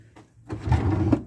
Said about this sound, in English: Some of the drawers still open.